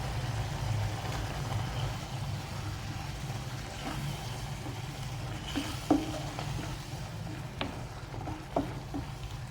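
Coarsely ground masala paste frying in a pan for brinjal kara kuzhambu, a low steady sizzle under a faint background hum, with a few spoon scrapes and taps against the pan; close, no talking.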